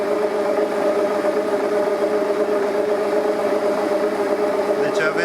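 An electric motor drives a generator that is running with its output shorted, giving a steady mid-pitched whirring hum at an even speed, close and continuous, with someone speaking over it.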